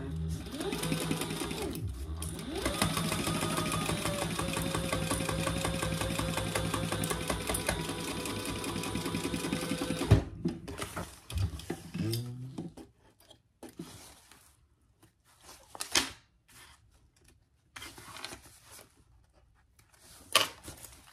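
A sewing machine stitches a tote bag seam in a steady, continuous whir for about ten seconds, then stops, followed by scattered soft handling clicks and rustles at close range.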